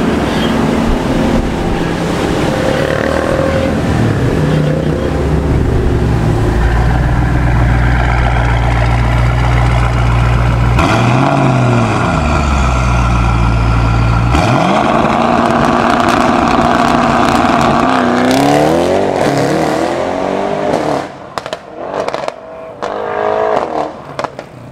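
A 2018 Mercedes E63 AMG with a bi-turbo V8 roars loudly and steadily under hard acceleration, the pitch climbing and dropping through shifts before the engine noise breaks up near the end.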